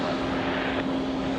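A jet airliner departing JFK airport, a steady distant roar with a sustained hum, continuous and moderately loud.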